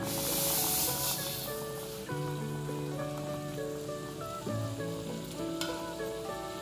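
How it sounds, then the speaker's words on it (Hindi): Sugar is poured into a pan of boiling soaked plums while chutney cooks, giving a grainy pouring rush followed by steady bubbling and sizzling, with tonal background music playing underneath. "अब हम इसमें सारी चीनी डाल देंगे।"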